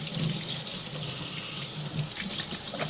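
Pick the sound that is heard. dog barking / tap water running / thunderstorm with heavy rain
tap water running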